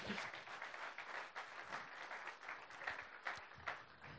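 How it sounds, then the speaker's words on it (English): Church congregation clapping during a service with a guest speaker, a fairly faint, continuous patter of many hands clapping with uneven peaks and no voices over it. "That's a good place to clap for the church right there."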